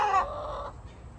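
A loud hen clucks in a short burst of two or three close calls, then fades into quiet farmyard background.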